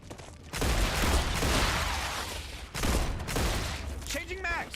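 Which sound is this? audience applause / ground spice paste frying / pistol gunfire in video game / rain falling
pistol gunfire in video game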